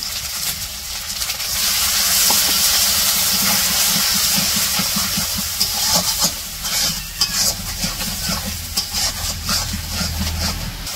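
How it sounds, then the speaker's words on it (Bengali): Masala of turmeric, chili powder, garam masala and salt sautéing in a pot in a village kitchen, with a steady loud sizzle and hiss throughout and irregular scraping stirs growing more frequent toward the end. "মরিচের গুঁড়া, গরম মশলা, লবণও দিয়ে দিল। মশলাটা কষিয়ে নেব।"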